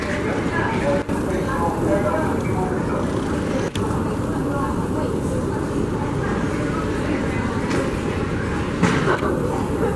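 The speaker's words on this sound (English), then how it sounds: "This is the 96th Street, 2nd Avenue bound Q train." Continuous rumbling roar of a Q train at a Second Avenue subway station in New York, with broad rail noise, occasional clanks, and a voice talking over it.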